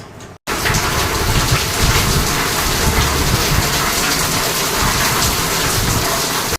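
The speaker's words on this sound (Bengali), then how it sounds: "খুব জোরে বৃষ্টি এসেছে" Heavy rain pours down loudly and steadily, a dense hiss of drops on surfaces beginning abruptly after a brief quiet moment.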